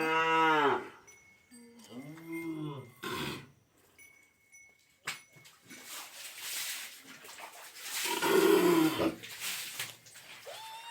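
Cattle on a farm lowing with repeated drawn-out moos, two clear calls near the start and more overlapping ones later, close and loud, amid other barn noises and a few background voices.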